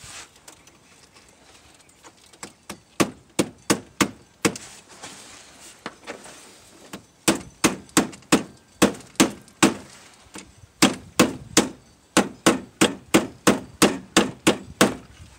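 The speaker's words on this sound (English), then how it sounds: "let me get something to tap it in. Be right back. I went and got me a hammer." A hammer taps a battery post terminal end down onto the post of a 2000 Toyota Tundra, a long series of sharp, close metallic knocks in uneven bursts with short pauses between groups, heard alone without talk.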